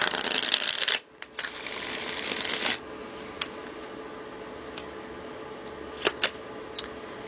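Tarot cards being shuffled in two quick riffling bursts, followed by a few soft isolated taps and card snaps in a quiet room.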